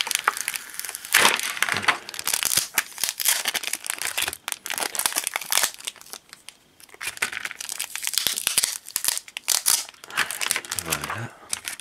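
Taped packaging for a Pokémon tripack being torn and crinkled open by hand, with irregular ripping and crumpling bursts close up, one person speaking briefly over it.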